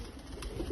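Pakistani pigeons kept for sale in Belgium give a brief soft coo against quiet background noise.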